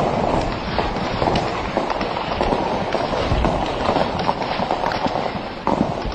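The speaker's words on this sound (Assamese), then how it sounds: "ৰেজিষ্টেণ্ট ফ'ৰ্চৰ সম্ভাৱ্য অৱস্থানলৈ লক্ষ্য কৰি প্ৰচণ্ড গুলী আৰু" Heavy gunfire and shelling, including rocket launcher fire, from an attack in Afghanistan: dense, continuous crackling bursts and thuds at steady high loudness, with no talk.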